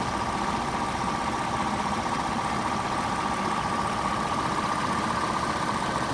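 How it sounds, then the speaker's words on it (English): The 2.8-liter engine of a 2001 Audi A4 Quattro idles at a steady pace, a constant close hum with a faint mid-range whine and no revving or talking. "Here's the engine while it's running."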